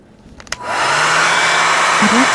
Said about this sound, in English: let me pull out the hair dryer